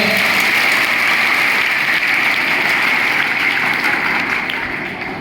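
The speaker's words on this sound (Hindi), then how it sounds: "एक बार जोरदार ताली अपने लिए बजा लो" Students at a school independence day gathering give loud applause, a thick continuous roar of many hands clapping that fades slightly toward the end.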